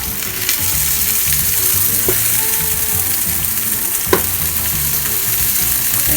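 Giant freshwater golda prawns rubbed with salt and turmeric sizzle steadily in hot oil, a close, dense hiss with a couple of faint clicks and one sharp tap near the end.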